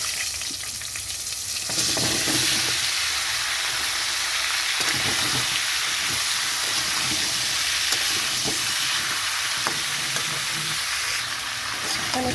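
Vegetables fry in a pan while a prawn, pumpkin, potato and stem curry is cooked, giving a steady, close sizzle with scraping stirs and occasional clinks, and no talking.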